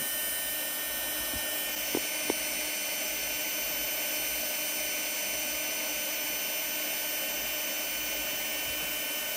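A WorX MakerX rotary power tool runs steadily at maximum speed, a constant high-pitched motor whine with a couple of brief clicks early on and no talking.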